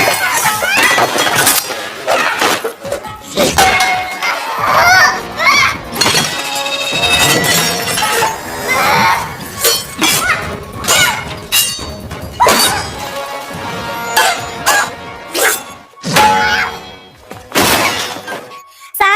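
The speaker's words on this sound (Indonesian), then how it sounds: "Kejar-kejaran itu sampai di sebuah dapur dan terjadilah baku hantam antara Susan dan si wanita" A chaotic kitchen brawl between two women in a spy film, with repeated loud crashes, shattering glass and clinking breakage, thumps and whacks in dense bursts, and occasional voices mixed in.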